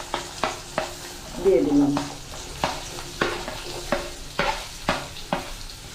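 Potatoes and onions fry in a pan, a soft sizzle punctuated by regular sharp spatula taps and scrapes against the pan, with a brief spoken phrase.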